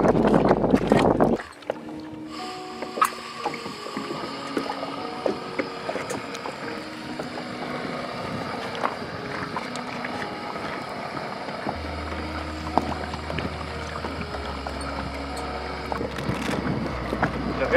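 Strong wind gusts buffet a kayak on a river during outdoor cooking, a steady rushing roar with low rumbling bursts of microphone wind noise throughout.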